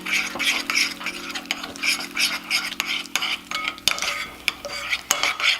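A spoon stirs chicken tandoori marinade with masala paste, ginger-garlic paste, turmeric and food colour in a bowl, making repeated close scraping strokes with sharp clinks against the bowl and a steady low hum behind.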